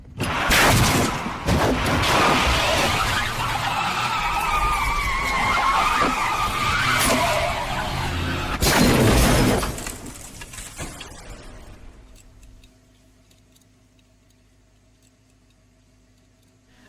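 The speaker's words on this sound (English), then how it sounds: "the first car crash that began the entire film's plot" Car crash effect from the horror film Shutter: tires screech and skid loudly with sharp impacts, a burst of crashing noise, then the sound fades into near silence with a faint lingering tone.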